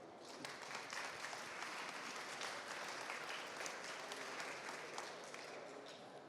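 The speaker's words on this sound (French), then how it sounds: "que l'on peut encore applaudir" Audience at a junior pastry competition awards ceremony applauds steadily and evenly, a faint but continuous patter of many hands clapping with no talk over it.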